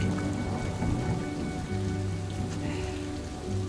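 Steady rain falling and pattering on a surface at a wet hiking camp in Norway, a dense continuous wash of drops with no voices.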